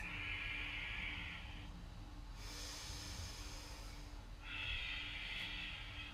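Slow, audible breaths during a power yoga flow, a long hissing exhale, a pause with a brighter inhale, then another hissing exhale, close and soft over a steady low background hum.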